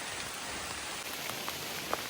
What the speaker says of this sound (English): We're still going up in the rain.